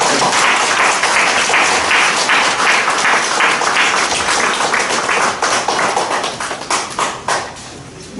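A lecture audience applauds after a talk on liberal democracy and totalitarianism, dense sustained clapping filling the room, loud and close, then thinning out into scattered claps near the end.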